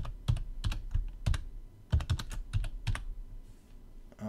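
A password is typed on a computer keyboard as a run of crisp, close keystrokes in small irregular bursts, then a short pause before a last tap.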